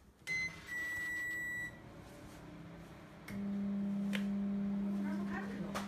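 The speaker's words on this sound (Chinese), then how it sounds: "听一下这个声音，明显的就发沉了，嗡嗡的感觉。" A microwave oven fitted with a new replacement magnetron, its metal casing closed, gives short electronic beeps as it starts, then settles into a steady, deep, low hum.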